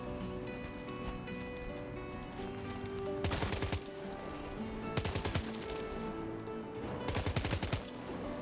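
Gunfire in the video game Death Stranding 2, three short rapid bursts of shots cutting through a steady ambient music bed, with no talking.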